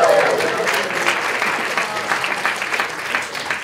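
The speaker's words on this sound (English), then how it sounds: "give our next team a huge round of applause" Audience applause at a hackathon demo event as the next team comes up, a steady crowd clapping that starts loud and slowly tapers, with a voice briefly heard near the start.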